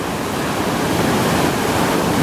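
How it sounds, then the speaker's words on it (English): Tunnel Brook in New Hampshire's White Mountains rushes in a steady, loud broadband roar of flowing water, swollen after heavy rain, with no voices over it. "This is the Tunnel Brook."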